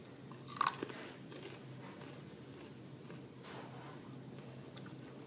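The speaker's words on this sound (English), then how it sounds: "That's a lot to chew." Someone chews a hard, crunchy mouthful with a sharp bite near the start, then quieter crunching and smacking continues close to the mic. No one speaks.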